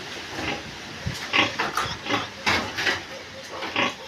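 Close grunts and soft oinks from a sow farrowing piglets, with several short bursts of snuffling grunts spread irregularly through the clip, over a low barn background.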